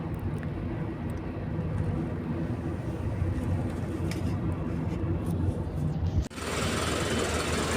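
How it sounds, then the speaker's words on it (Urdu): Steady, loud construction noise on a street at a busy building site, with continuous engine and machinery rumble and intermittent hammering close by, cutting off abruptly near the end before a brief, different wash of noise. "کنسٹرکشن تو بس ہر جگہ پہ چلتی ہی رہتی ہے، بہت زیادہ کنسٹرکشن ہوتی ہے اس جگہ پہ"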